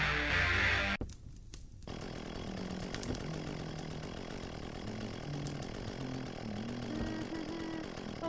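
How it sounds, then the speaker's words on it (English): A chainsaw running in the creepy indie horror game Bashed.OS, with a steady buzzing, revving drone that continues loud and unbroken after a brief noisy burst at the start. "No, put the chainsaw down."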